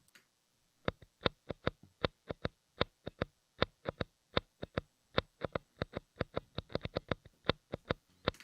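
Percussive muted guitar string hits in an R&B loop, a rapid run of sharp dry clicks in an uneven syncopated rhythm, close and clear with no talking.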